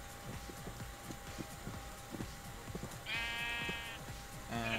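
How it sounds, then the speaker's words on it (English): Sheep in the Minecraft video game bleat twice, a drawn-out bleat followed a moment later by a short one, over soft game footsteps and ambient noise. "There are two sheep right here."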